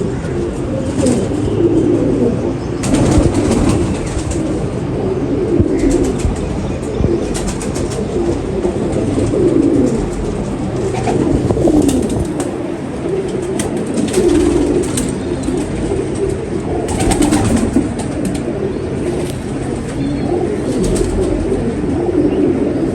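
Pigeons cooing in a loft, low soft repeated coos layered over each other throughout, with occasional rustles and wing flutters nearby.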